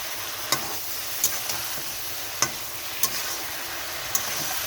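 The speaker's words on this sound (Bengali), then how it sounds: "শিম আলুটাও একটু ভাজা হয়েছে, মশলাটাও ভালো কষানো হয়ে গেছে" Spice paste and potatoes with flat beans stir-frying in a pan: a soft continuous sizzle runs throughout, broken by several sharp scrapes and taps of a spatula against the pan, with no talking.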